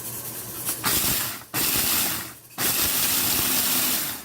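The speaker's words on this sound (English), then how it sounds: "here's the food processor. I've put a little rice in that" A food processor coarsely grinding a small amount of washed, towel-dried rice: loud whirring hiss in three pulsed bursts, separated by short pauses.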